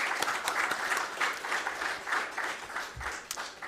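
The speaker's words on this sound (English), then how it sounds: "Let's applaud for them." Officials and guests at a project kick-off meeting applauding, a short burst of steady clapping from a moderate crowd in a hall.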